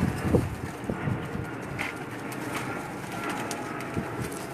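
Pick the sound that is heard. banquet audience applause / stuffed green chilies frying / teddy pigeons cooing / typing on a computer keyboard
teddy pigeons cooing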